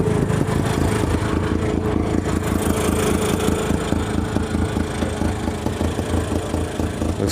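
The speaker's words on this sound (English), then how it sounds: "The AC Petite is just running." AC Petite microcar, an NSU-built little coupe, with its small engine running steadily at idle at an outdoor microcar rally, a continuous low mechanical drone with a rhythmic pulse, close and fairly loud throughout.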